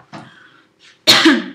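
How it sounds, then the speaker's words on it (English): A single close, harsh cough, preceded by a short throat sound, loud and isolated in a quiet room. "I don't know why I'm coughing, I'm sorry."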